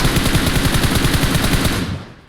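Rapid automatic gunfire from a video game hammers out in an even, fast rhythm, loud and close, before trailing off and fading at the end.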